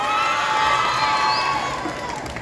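A crowd cheers, shouts and applauds for a contestant at a youth mariachi competition held at a school, a loud sustained roar of voices with whoops near and all around.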